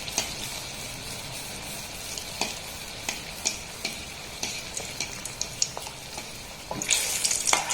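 Malpua, sweet mango pancakes, fry in oil with a continuous close sizzle punctuated by sharp clicks of a utensil, swelling louder near the end.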